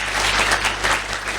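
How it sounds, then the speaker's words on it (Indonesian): Applause from a school audience at an Islamic prayer gathering for exam success at a vocational high school in Purworejo, a dense, steady burst of many hands clapping together throughout. "Tepuk tangan kalian."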